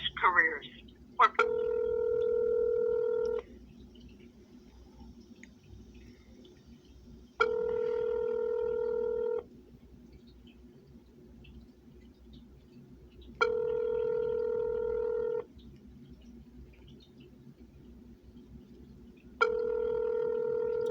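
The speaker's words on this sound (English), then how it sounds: "It's just ringing. Hopefully it'll pick up." A telephone ringback tone repeats four times while a call is being placed, each ring about two seconds long with quiet gaps between them, heard clearly over a faint background hiss.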